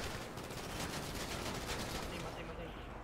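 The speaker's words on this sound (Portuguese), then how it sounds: "Deixa eu dar um tiro nesse aqui." Rapid bursts of video game gunfire in a GTA roleplay zombie invasion scenario, a dense steady crackle of shots running nearly three seconds before tapering off.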